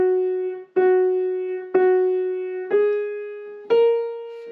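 Five sustained piano notes struck one after another at an even, unhurried pace, each ringing and fading before the next, the pitch edging upward.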